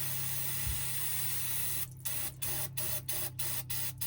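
Brake cleaner sprayed from an aerosol can onto the greasy differential gears of a 1999 Lincoln Town Car being prepared for welding, a steady hiss broken into about seven short bursts after an initial low hum.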